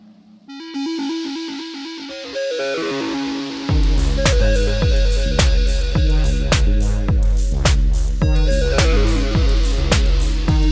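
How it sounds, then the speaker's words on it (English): A distorted modular synthesizer lead, run through a Lyra 8 effects processor, plays a rhythmic pattern, its notes trailing into long delay echoes over a pulsing low line. "running through the Lyra 8 effects processor, adding distortion as well as a long nice delay tail"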